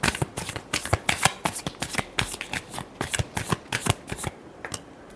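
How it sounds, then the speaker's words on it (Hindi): Tarot cards being shuffled by hand in a run of quick, crisp riffling bursts, close and fairly loud, with no talking over it and a brief pause near the end. "Last shuffle."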